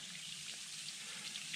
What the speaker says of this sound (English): And then there's this little waterfall